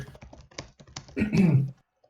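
Computer keyboard keys tapped in a quick, light run during an Age of Empires III match, a faint burst of clicks followed by a louder, muffled stretch of other sound before it drops away.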